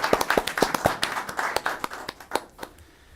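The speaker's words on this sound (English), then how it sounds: "let's give another round of applause for Violeta Cervantes" Applause from a school board meeting audience, with a few people clapping in quick, uneven bursts that thin out and fade over about three seconds, with no talking.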